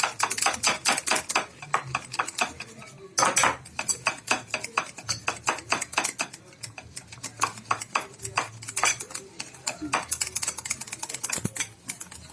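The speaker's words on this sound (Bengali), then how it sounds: "ইনোটা দেওয়ার পর খুব তাড়াতাড়ি নাড়াতে হবে।" Dhokla batter being whisked fast right after Eno is added, a rapid run of sharp clicking strokes of a spoon or whisk against a bowl, steady and close with brief pauses.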